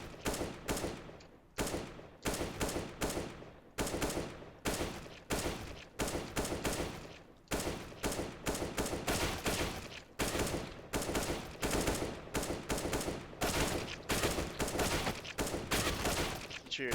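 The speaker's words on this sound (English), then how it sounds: "You're hitting your shots with your AK." AK rifle fire in a Counter-Strike: Global Offensive aim-training map, a loud, sharp run of rapid taps and short bursts repeating in clusters with brief pauses between.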